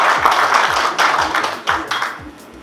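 An audience applauds at a ceremony installing the municipal executive of Batcham. Several bursts of clapping rise and fade over a few seconds, loud and close, then thin out toward the end.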